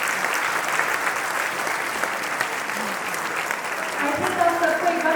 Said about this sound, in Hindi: खड़े होकर जोरदार तालियां बजानी चाहिए